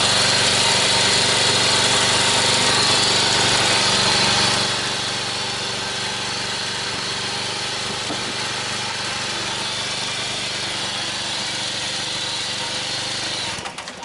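A small lawn mower engine runs steadily in high grass, loud at first and then dropping to a quieter, even drone before cutting off abruptly at the end.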